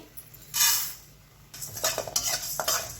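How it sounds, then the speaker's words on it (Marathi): Coriander seeds are dry-roasted in a pan, giving a loud, close rattling scrape as they are stirred, then a burst of faster, choppy stirring strokes, with no voices. "आता मी भाजून घेणार आहे धने"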